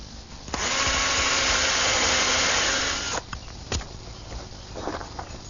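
A power driver whirs for about two and a half seconds as a screw goes into a greenhouse ridge cap over a rafter, followed by a few sharp clicks and knocks as the work continues.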